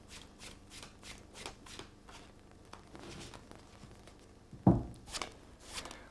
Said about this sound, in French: C'est la seconde carte qui est distribuée aux autres joueurs.